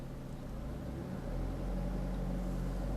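A car engine idles at low revs and then picks up into a steadier, slightly louder hum as the gas is set during a driving lesson, a continuous low rumble heard close up with no voices.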